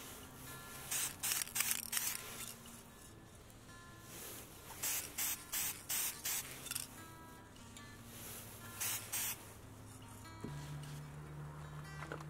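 Silver spray paint is applied to glass for a mercury-glass effect, heard as clusters of short, quick hissing spray bursts repeated several times over a faint, quiet background.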